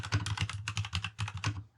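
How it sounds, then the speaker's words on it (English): Fast, close typing on an Ajaxx K620T portable keyboard, a rapid run of crisp key clicks in quick bursts with no voices. "It's just no flex at all with the keyboard itself, and typing is an absolute dream."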